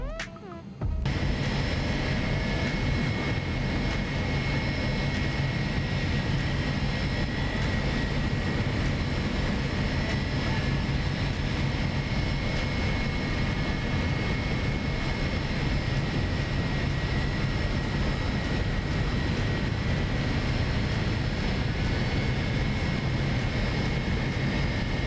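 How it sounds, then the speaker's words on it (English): Aircraft engine running in the X-Plane 11 flight simulator, a loud steady droning hum with constant whining tones that holds at an even level throughout after a brief quiet start. "engine 2 is good to go. Starting engine 1."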